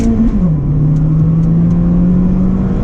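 An Acura RSX Base engine revs hard during a backroad drive, its steady drone jumping in pitch as VTEC engages, then holding a loud, close, sustained howl with no talking over it.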